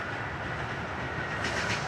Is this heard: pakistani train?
yes